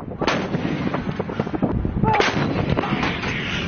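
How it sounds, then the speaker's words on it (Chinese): Artillery guns on a high-plateau firing range fire live rounds, heavy booming blasts and rumbling echoes following one another in close succession, loud and dominant with faint voices underneath. "随着单炮逐个射击"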